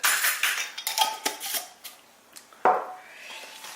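Utensil scraping and clinking against a bowl, a quick run of taps and rubs, then a sharper knock, close by with no speech.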